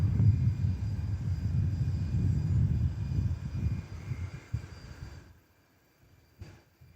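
An aircraft touching down at Nashville International airport: a loud low rumbling roar that gradually fades to near silence, heard at a distance with no voices.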